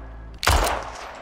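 A designed automatic weapon gunfire effect built from firecracker recordings hits as one sharp, loud burst with a deep low-end punch and a bright crack, then decays into a short fading tail.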